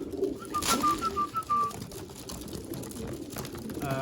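A yearling racing pigeon just returned to the loft after a one-loft race coos softly, a short run of low rolling notes over outdoor background noise, fairly close, with no talk over it.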